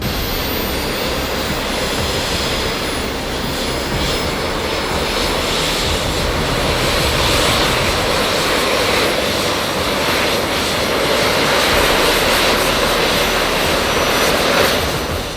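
Jetpack engines roar loud and steady while hovering, a continuous close-up turbine blast with no pauses throughout.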